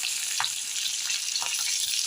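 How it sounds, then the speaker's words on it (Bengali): Garlic dropped into hot oil sizzles with a steady, close hiss through the whole stretch, broken by a few faint clinks of utensils and no talking. "তেলের মধ্যে রসুনটা দিয়ে দিলাম"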